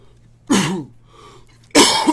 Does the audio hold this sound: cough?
yes